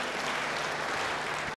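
A church congregation bursts into sustained, dense applause, a loud wash of many hands clapping together that cuts off abruptly at the end.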